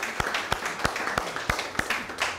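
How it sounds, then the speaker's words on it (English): A handful of people clap at a café bistro evening event for a guest, giving about seven distinct, fairly slow claps with faint background chatter, close and moderately loud. "let's give him a round of applause"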